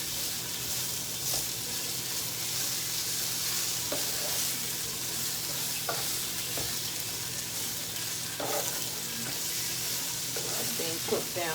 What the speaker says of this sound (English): just letting it saute so everything gets soft